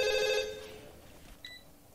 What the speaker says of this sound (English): Is that like the first phone call I've ever gotten? Go ahead and pick that up.